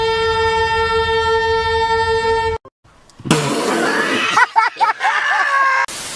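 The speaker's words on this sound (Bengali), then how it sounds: "আর এখন ট্রেন জেমে পড়ে হরন দিয়ে গাড়ি সরাইতেছে" A train horn sounds in a long, steady, loud blast from a train stuck amid road traffic. A short gap follows, then nearby crowd noise with voices.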